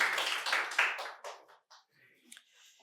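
An audience at a quiz competition at a medical college claps in a short burst that starts strong and quickly fades to a few scattered claps.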